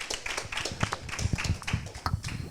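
Small gathering clapping for someone at a local event, a loose scattering of hand claps at uneven intervals, fairly close and light rather than a full round of applause.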